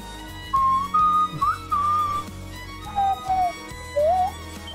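A person whistles a short melody in several phrases over quiet background music, the notes wavering slightly in pitch.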